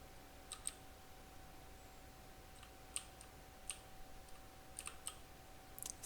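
Sparse computer keyboard clicks, single taps and short clusters, sound faintly against a steady electrical hum while a rover is driven manually in a simulation.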